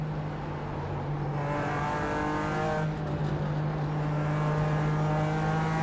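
A BMW race car in the iRacing sim game accelerates hard, its engine note rising steadily and loud with a continuous droning howl, no voices.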